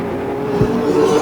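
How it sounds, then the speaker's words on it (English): Vintage modified race cars at Flamboro Speedway coming off turn four in close racing, a steady loud engine roar with a brief swelling pass partway through. "They come up off of turn number 4. Still close corner racing, but Rutherford holding on to the time being"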